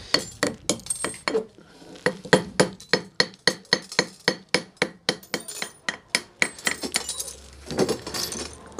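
A spherical flower pot piece is struck with a long run of rapid, even, sharp taps, around twenty close hard clinks at a steady rhythm, and a faint low hum enters near the end.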